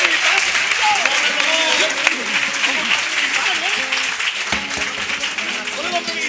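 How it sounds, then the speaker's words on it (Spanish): Audience applause during a comparsa carnival performance in Arcos, with continuous clapping mixed with shouting and cheering voices from a lively crowd over the whole span. "Un aplauso por ustedes."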